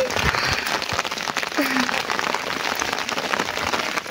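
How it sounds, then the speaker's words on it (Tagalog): Rain at sea on a fishing trip, heavy and getting stronger, patters as a dense, steady hiss of drops that fills the whole stretch, close and loud, with faint voices beneath. "Lumalakas na yung ulan."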